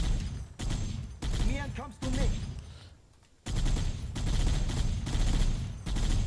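Automatic weapon fire in the Xbox One game Halo rattles out in several loud, sustained bursts separated by short pauses, with a brief voiced outburst partway through.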